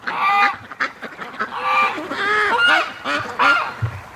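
Farm ducks quack and honk in a loud, rapid series of nasal calls close by, several birds overlapping with short gaps between bursts.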